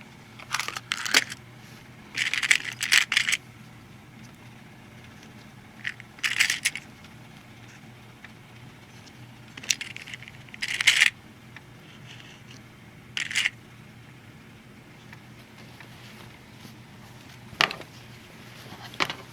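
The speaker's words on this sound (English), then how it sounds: "I'm going to grab some clips" Small metal sewing clips picked up and rattled by hand during quilted bag construction, heard as several short, bright clattering bursts spaced a few seconds apart over a quiet background.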